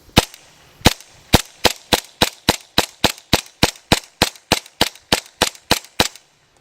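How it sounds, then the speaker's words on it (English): Airsoft M4-style gun firing about seventeen sharp, evenly spaced shots outdoors toward a distant barrel, each crack crisp and loud in a steady rapid rhythm, then stopping. "We're going to let it shoot out there."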